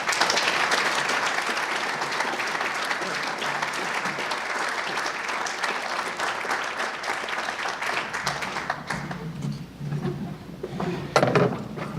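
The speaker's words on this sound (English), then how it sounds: "thank you for that lukewarm applause" Applause from the audience at an Elmhurst Jaycees award ceremony, steady dense clapping that thins and fades out toward the end, followed by a few scattered claps.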